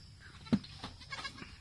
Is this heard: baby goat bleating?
yes